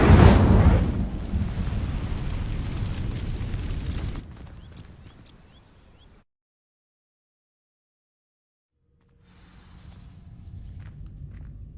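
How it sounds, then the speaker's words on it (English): An Incendio fire spell in Hogwarts Legacy bursts loudly into a roaring blaze over dry vines, fades away to silence, then a low crackling rumble returns faintly. "These dry vines are one spark away from becoming kindling. Incendio!"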